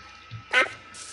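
A single short clucking call from a chicken spawner in a video game, sharp and close, rises briefly over a quiet background with a faint low thump just before it.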